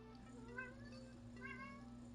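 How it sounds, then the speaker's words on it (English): A cat meows twice in a row, clear and fairly close, over a steady low electrical hum, with no talking. "that would be Sorbet meowing"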